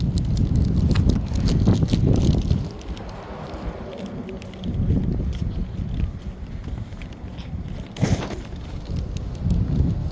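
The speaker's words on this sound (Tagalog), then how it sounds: "Ay, may hangin. May hangin." Gusts of wind buffet the microphone in loud, low rumbling bursts that come and go, with brief quieter stretches in between.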